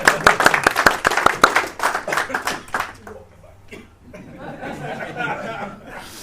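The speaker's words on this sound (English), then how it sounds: "Round of applause to Duncan" Audience applause at a business coaching event in Glasgow: a few seconds of lively, close clapping from a small crowd that fades into chatter and light laughter.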